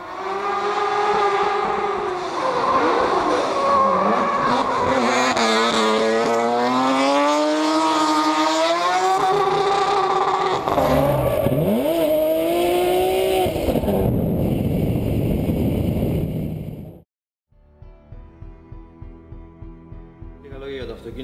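Supercharged BMW M3 E36 3.2 with a ProCharger compressor kit drifting, the engine revving hard and loud with rising and falling pitch and tire squeal, then cutting out into a choppy idle burble.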